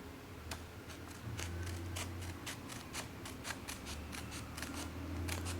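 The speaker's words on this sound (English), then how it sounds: "So cut it along this line first." Scissors snip through paper strips for a homemade gift bow, a series of sharp, close cuts in an uneven rhythm over a low background hum.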